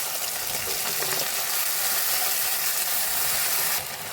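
Ginger and green chili paste hitting a pan of tomato, a steady, dense hiss and crackle of sizzling oil held at a moderate level throughout, easing slightly near the end.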